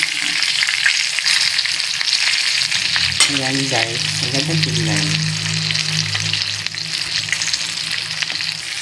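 Steady loud sizzling of espada fish frying in hot oil, with a person speaking briefly over it partway through.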